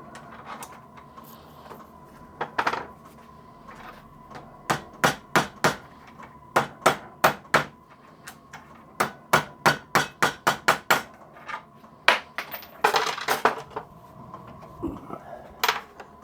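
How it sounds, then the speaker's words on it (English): Sharp metal hammer blows flattening gland packing for a water pump, landing in irregular bursts of quick taps with short pauses between runs, loud and close. "Hammer that a little bit flatter so it's going to go in a lot easier."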